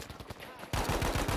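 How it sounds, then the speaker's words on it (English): Rapid gunfire in the video game Battlefield V: rhythmic bursts of close shots that grow louder and denser halfway through, forming a sustained firefight. "Everybody's shooting."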